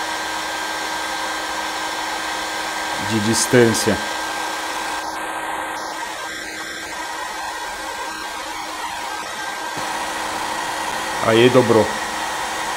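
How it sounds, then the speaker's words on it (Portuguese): A hair dryer blows hot air held about a hand's width from a guitar headstock to soften binding strips, a steady close whoosh throughout, while a person speaks briefly over it. "Eu tô com o secador de cabelo a coisa de um palmo aqui"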